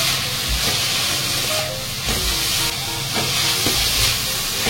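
Greens with cashews and grated coconut are stirred in a hot pan, giving a loud steady sizzle and fry with a few spoon scrapes and knocks against the pan, with no voices.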